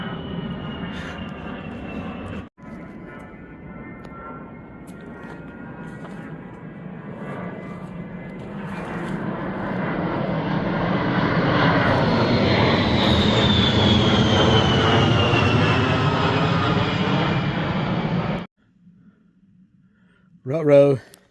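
A fixed-wing aircraft drones high overhead above an Appalachian Trail section in Pennsylvania, its engine swelling steadily louder and peaking before cutting off abruptly, a distant continuous roar heard in open air.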